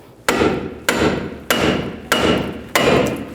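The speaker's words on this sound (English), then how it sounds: "Now you can go underneath here with the pickle fork and just separate this." Five sharp metal hammer blows strike a pickle fork wedged under a ball joint on a Chevy Silverado 2500 front suspension, evenly spaced about half a second apart, loud and close, each ringing briefly before the next, with no talking.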